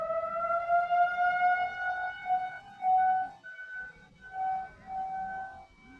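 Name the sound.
sirens wailing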